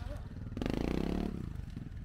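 A trial motorcycle engine revs in a sustained burst, with clattering and scraping over slippery rocks, close by.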